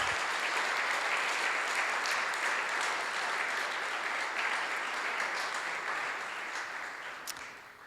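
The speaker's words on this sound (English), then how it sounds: "please give everyone in this room a round of applause" Sustained applause from a room full of people at a university address, a dense steady clatter of clapping that fades slightly toward the end.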